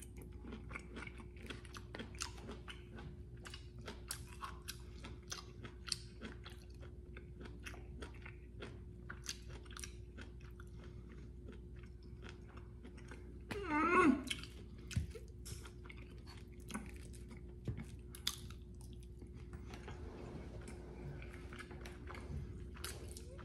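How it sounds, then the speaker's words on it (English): Roasted asparagus topped with roasted garlic, butter and steak seasoning is chewed and bitten close to the mic, soft quiet crunches and wet mastication over a steady low hum, with a louder burst of bites partway through. "So I'm gonna try the asparagus."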